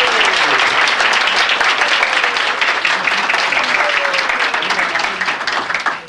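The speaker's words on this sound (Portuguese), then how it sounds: "para os aplausos de vocês" Loud, dense audience applause on a Brazilian radio program, filling the space steadily as a composer is introduced, with a faint voice underneath and the clapping tapering slightly at the end.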